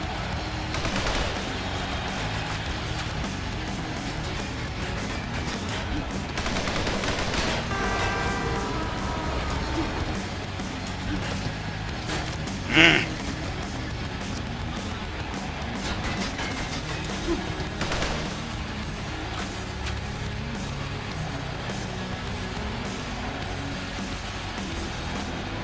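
M16 fire in a video game crackles in dense bursts under busy game noise and a talking voice, with one sharp impact near the middle.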